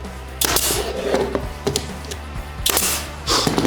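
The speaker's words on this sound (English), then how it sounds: "We're gonna put our gun upside down and shoot a pin at an angle, which pins the door." A pin nailer, held upside down, fires pins at an angle into a wooden cabinet door, giving several sharp, close snapping shots spaced unevenly apart over a low background hum.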